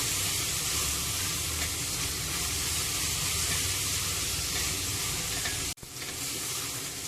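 Ginger, garlic and onion sauté in a pan with a steady, close sizzling hiss and occasional stirring scrapes, briefly cut by a short gap near the end, no voices.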